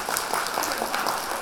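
An audience applauds three monks on stage after an afternoon talk, a brief, dense wash of clapping at moderate distance.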